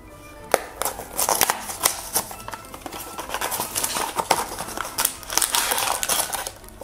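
A blind box from the ShinWoo Strange Ghost Diner series is torn and opened close by, with rapid crinkling and rustling of packaging and soft crunches in irregular bursts.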